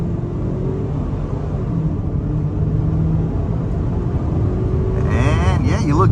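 A 2024 Ford Bronco Sport Badlands pulls away hard from a standstill under full throttle, its steady cabin drone of engine and road rumble swelling as the engine note climbs toward the end.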